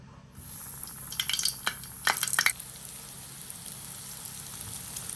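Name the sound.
bread-coated small bananas frying in hot oil in a pan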